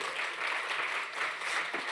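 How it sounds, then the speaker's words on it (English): At a European rivers summit, an audience breaks into brief, steady applause, a continuous wash of clapping lasting a couple of seconds with little else over it. "let's give them an applause so they get the energy"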